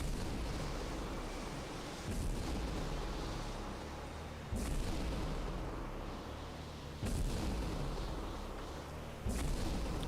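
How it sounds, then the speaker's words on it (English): Repeated heavy ballistic missile blasts in a video game, four loud booming impacts spaced a few seconds apart over a continuous rumbling roar. "I just casually dodged 2 sets of ballistic missiles."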